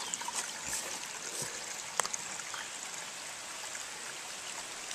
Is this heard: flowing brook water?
yes